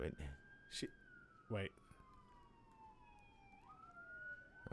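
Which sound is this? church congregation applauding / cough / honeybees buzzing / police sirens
police sirens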